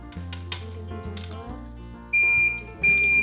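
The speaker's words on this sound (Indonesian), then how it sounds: "Aku coba lepas dulu ya buzzernya biar nggak bunyi." A small electronic buzzer on a PIR-sensor thief-detector circuit gives two loud, shrill beeps near the end, after quieter clicks and fiddling with the board.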